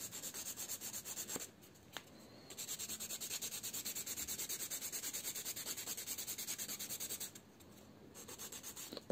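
A nail file rasps back and forth across a gel fingernail in quick, even strokes, close and fairly quiet, with two short pauses between bursts of filing.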